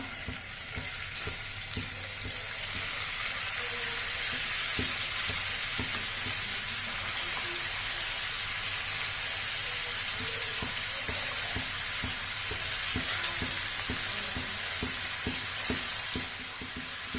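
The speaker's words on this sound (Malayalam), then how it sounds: "വെളിച്ചെണ്ണ ഒന്ന് ചൂടായിട്ട് വരുമ്പോ നമുക്ക് ചെമ്മീൻ ഇട്ട് കൊടുക്കാം." Prawns shallow-fry in hot coconut oil, producing a loud, continuous close sizzle with occasional light clicks and scrapes from stirring, steady from start to finish with no talking.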